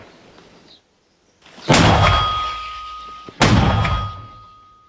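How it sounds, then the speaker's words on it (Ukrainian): Two heavy booming blasts from an MP-120 120mm mortar firing a couple of seconds apart, each sharp onset trailing into a long rumbling decay, loud and close outdoors. "Міномет МП-120 це зброя українського виробництва"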